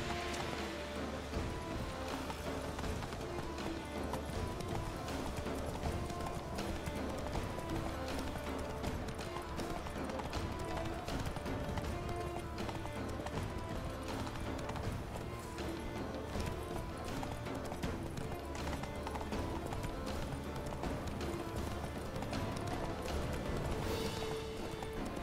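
Hooves of the horse Roach clip-clopping in a steady, continuous gallop in The Witcher 3, close and prominent over the game's ambient background, with a whinny possible and little talking.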